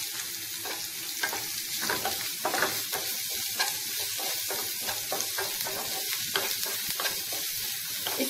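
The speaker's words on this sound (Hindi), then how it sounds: "और ये ग्रीन चिलीज, और उसी के साथ थोड़े से डालेंगे चॉप ऑनियन। इसे अच्छी तरह से कुक कर लेते हैं।" Green chilies and chopped onion fry in a pan, giving a steady close sizzle broken by repeated scraping and stirring strokes at a fairly even rhythm, with no voices.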